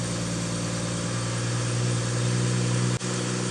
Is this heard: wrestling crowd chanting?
no